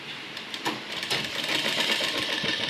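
Sewing machine stitching palazzo trouser fabric, a fast steady mechanical whirring with light rhythmic clatter, running close and continuously on its own.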